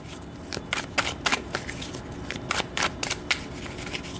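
Tarot cards being shuffled up close in a series of quick riffling bursts, each a crisp papery flutter separated by short pauses, with no talking.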